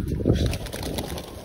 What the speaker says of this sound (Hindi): देखो गुलाबी रंग लगा हुआ कबूतर आया किसी का